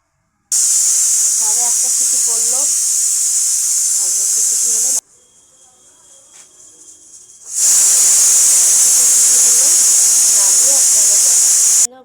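Loud, sustained steam hiss from a pressure cooker cooking jackfruit curry with potatoes, cutting out for a few seconds before hissing again at full strength.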